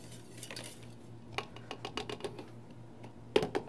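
A whisk works pastry cream in a bowl, sending quick, uneven metal clicks and scrapes against the sides in irregular bursts, close and fairly crisp, with no talking.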